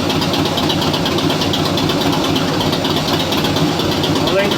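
A 2017 Harley-Davidson Heritage motorcycle idles steadily at close range, propped level on a board under the kickstand during an oil change, giving a continuous low, even rumble with no breaks.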